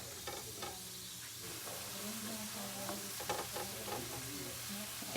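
Onions cooking in a pan for shakshuka give a quiet, steady sizzle with intermittent scraping and stirring, a few faint clinks, and no voices.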